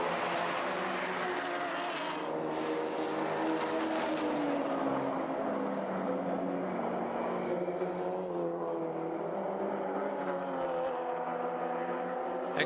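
Touring race cars, including a Volkswagen Scirocco, run on a circuit in a Baltic touring car championship, their engines droning with rising and falling pitch as they pass at moderate distance, steady and unbroken.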